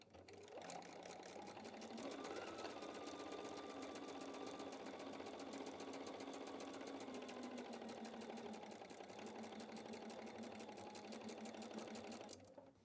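A sewing machine stitches a quilt block seam in one steady, continuous run of rapid needle clatter and motor hum, close up and alone, stopping abruptly at the end.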